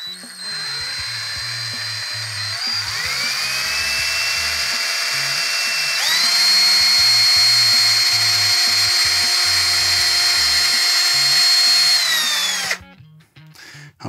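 A power drill whines steadily for about twelve seconds, drilling into a guitar body, pitch rising as it ramps up, then cuts off abruptly; close, loud, no talking.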